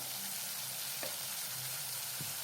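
Spiced yam (suran) curry frying in a pan as asafoetida, turmeric and coriander powder go in, giving a steady soft sizzle with a couple of brief stirring clicks, close and alone.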